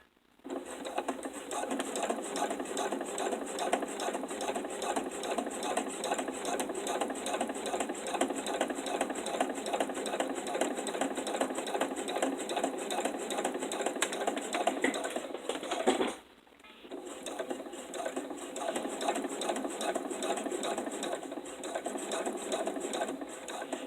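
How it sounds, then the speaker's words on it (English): A sewing machine stitches a zipper seam in a steady, fast mechanical whir that runs for about sixteen seconds, stops briefly, then resumes at the same even pace. "you're going to pick your presser foot up and pivot and sew straight down right on your line"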